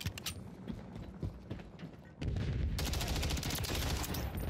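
Gunfire in Call of Duty Modern Warfare 3 multiplayer: a few scattered shots and clicks, then a sudden dense rapid burst of automatic fire that continues loudly to the end.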